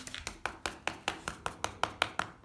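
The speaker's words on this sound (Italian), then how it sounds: "qui sentiremo bussare" Knuckles knock on a rendered plaster wall to find loose render, about ten sharp, evenly spaced raps that sound hollow and close, with no talking.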